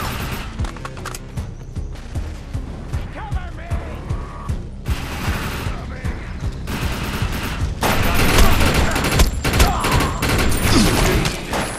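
Automated turrets in the shooter game Defiance fire sustained bursts of gunfire. Dense volleys run the whole stretch and grow louder and more intense toward the end, with explosive impacts mixed in and faint voices underneath.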